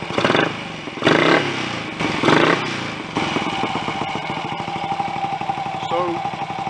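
A Royal Enfield 250 GT motorcycle engine blips a few times in loud bursts, then settles into a steady, close, slightly clattery idle.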